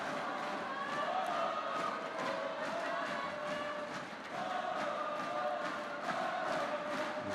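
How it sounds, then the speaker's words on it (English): A badminton crowd at a men's singles match yells and chants in rhythm, a dense, continuous roar filling the hall at a steady level with repeated chanted phrases rising and falling. "There's rhythm in the crowd as well. A lot of yelling, a lot of singing."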